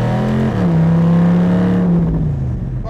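A 1941 Willys coupe engine revs at quarter throttle, a loud, close, droning growl that climbs in pitch after a brief shift, holds steady, then eases off as it fades slightly.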